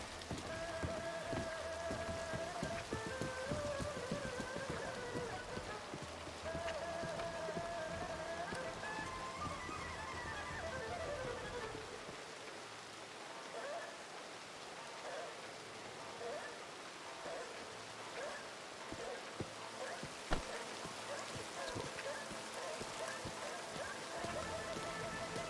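Steady rain in a Red Dead roleplay game, a soft continuous patter and hiss of drops that shifts partway through, faint and even, with brief sharper taps.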